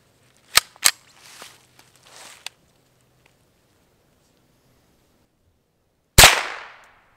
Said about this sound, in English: we're gonna start with the .22 long rifle out of the Ruger 10/22.